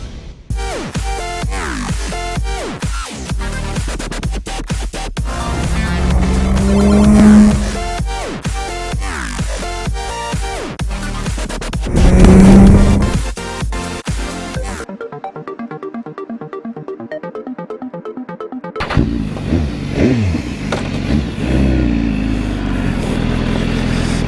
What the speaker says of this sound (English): I'd go for a little cheeky test ride on the 1000RR